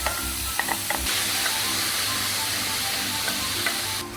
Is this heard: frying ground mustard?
yes